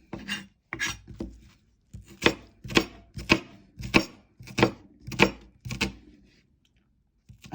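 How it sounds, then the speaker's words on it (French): A knife slices through two peeled onions on a cutting board, about ten crisp, evenly spaced chopping strokes sounding close and alone. "on émince ces 2 oignons."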